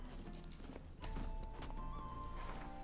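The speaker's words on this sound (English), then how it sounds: "Caballo." A horse in The Witcher 3 clops along with rhythmic hoof beats, close and fairly quiet, joined by a brief whinny partway through.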